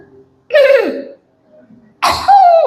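Two sharp, deliberate coughs from a nearby man, separated by a short pause, sounding forced like a signal.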